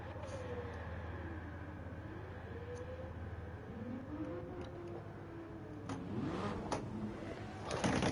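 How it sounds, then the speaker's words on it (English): A BMW M4 racing car in Gran Turismo 7 makes a continuous engine drone whose pitch sweeps up and down as it revs through gears. It grows louder toward the end, with faint background noise. "An M4 racing car."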